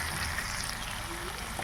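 Chicken frying in oil in a pot gives off a steady, soft sizzling hiss that runs unbroken and fairly quiet from start to finish.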